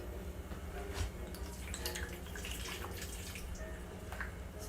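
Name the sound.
pouring E&J brandy into braised short ribs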